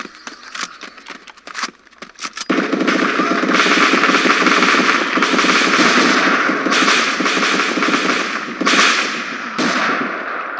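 Automatic gunfire from a 100-round magazine in a Walking Dead video game: a few scattered shots, then a long, continuous rattling burst lasting most of the stretch, loud and close.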